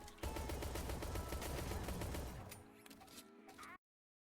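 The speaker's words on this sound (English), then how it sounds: "now I'm whipping out the pistol" Gunfire in the Shell Shockers game, a fast run of evenly spaced shots that sounds close and loud, then thins into a few scattered pops before cutting to silence.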